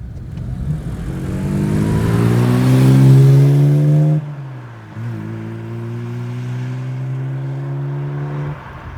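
A classic car engine revs up through the gears while driving on a winter road, loud and close, pitch climbing, then dropping at a shift and settling into a steady cruising drone.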